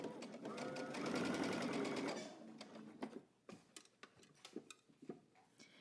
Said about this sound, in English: we're going to head to the sewing machine and we're going to stitch using 3/8 of an inch seam allowance